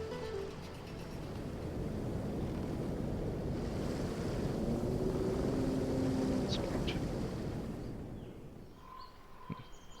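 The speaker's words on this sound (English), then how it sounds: "Waterfall." A waterfall in the video game Divinity: Original Sin roars as a steady, broad rushing wash that swells through the middle and eases off near the end, faint and continuous.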